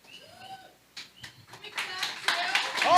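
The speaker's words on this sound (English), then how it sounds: "That deserves a clap for sure." Audience clapping after a talk on crypto marketing, starting as a few scattered claps and swelling toward the end, with voices and chatter mixed in.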